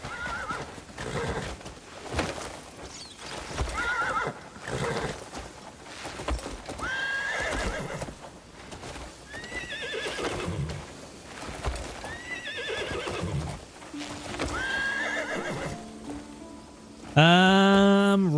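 Horses in the video game Crimson Desert whinny repeatedly over a steady clip-clop of hooves, with a loud, close neigh rising near the end.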